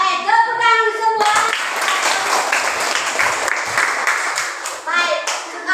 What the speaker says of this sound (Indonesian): Baik, tepuk tangan semua.